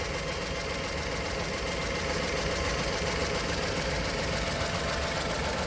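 A VW Polo 1.2 petrol engine with fault codes idles roughly and shakes, giving a loud, steady rumbling drone with constant vibration and no pauses.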